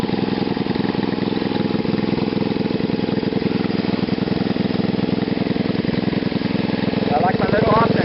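A small engine fitted with a short GEET fuel reactor, loud and close, chugging with a fast steady firing rhythm at idle, with a slight rise toward the end as it revs.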